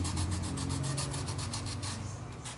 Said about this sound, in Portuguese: primeiro nós vamos lixar a borda aqui, essa parte que nós cortamos reto na bola. A lixa 120.